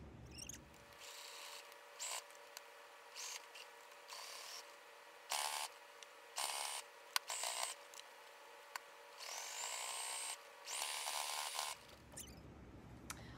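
Domestic sewing machine stitching the front panel of a denim jean skirt, with several bursts of fast mechanical whirring separated by short pauses, close and fairly quiet, with no talking.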